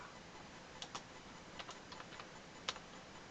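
Keys on a computer keyboard are tapped in a short, irregular run of distinct clicks, close and fairly quiet, with one sharper strike near the end and no talking.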